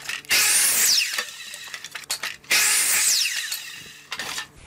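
Power saw cutting a ragged 2x4 to six feet in length for shims, two loud close passes each with a whining blade rising and falling, separated by brief pauses and small clattering knocks.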